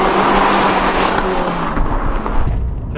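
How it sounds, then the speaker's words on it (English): Abarth 595 hot hatch with a raspy, tonal exhaust note, a loud close engine drone with the car moving, plus a few brief sharp crackles that could be exhaust pops. "with the exhaust note, you know, it's very raspy, very tony"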